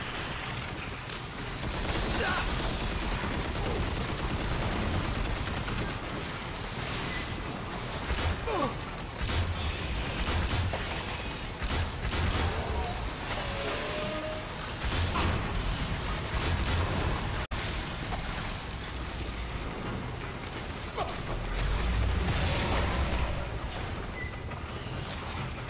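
Dense bursts of gunfire, crashes and explosions from the Red Faction Armageddon video game, a constant chaotic barrage of impacts and mechanical clatter with no let-up.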